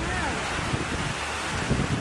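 Strong wind and big waves batter a passenger launch at sea off Tawi-Tawi, a constant loud roaring rush with heavier thumps of water, voices faintly mixed beneath.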